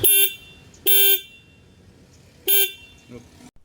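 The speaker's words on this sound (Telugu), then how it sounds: "ఒకసారి హార్న్ సౌండ్ కూడా వినండి" A 2026 Bajaj Pulsar N160 motorcycle with a single horn gives three short, loud, bright beeps, close up and separated by pauses, with brief talk near the end.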